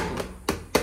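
Three sharp hand pats on akki roti rice dough, close and spaced unevenly over under a second, with no voices.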